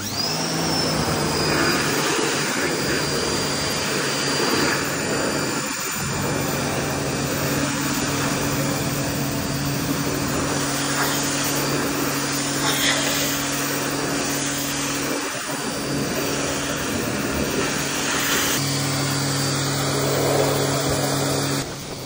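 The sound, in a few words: blower drying a washed Ford Focus ST car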